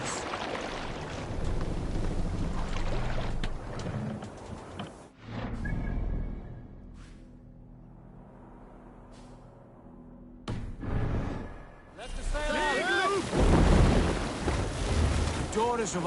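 A Viking longship crosses ocean waves in Assassin's Creed Valhalla, with a steady wash of water and wind rumbling throughout, broken by a quieter lull midway, while voices speak over it.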